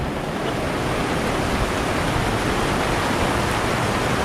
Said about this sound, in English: We've got waterfalls coming off the cliff over there.